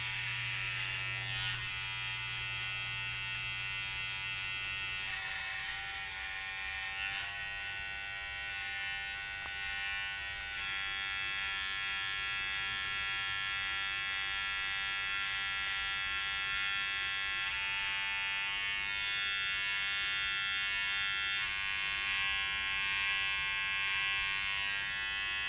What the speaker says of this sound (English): I'm gonna go in with my trimmers first